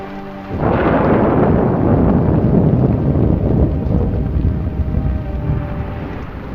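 Heavy rain pours down steadily in a dense roar, with low rumbling thunder swelling underneath after a quieter opening moment.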